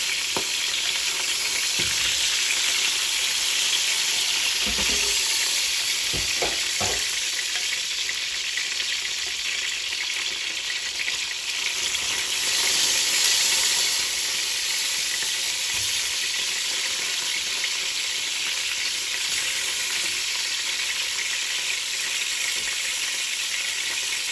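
Pieces of chicken, lightly browned, fry in hot oil for a roast with a steady, loud sizzle, broken by a few brief clinks of stirring.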